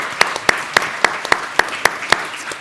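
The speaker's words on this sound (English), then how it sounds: "round of applause to Michael, our moderator for this panel" An audience at a cybersecurity book launch panel claps for the moderator. The claps are steady and evenly spaced, and crisp individual hits stand out over a softer wash for a few seconds.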